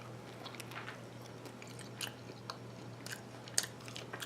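Someone bites into and chews a healthy-style Philly cheesesteak, giving soft, close, intermittent mouth sounds with small crunchy bites over a steady low hum, and no one talks.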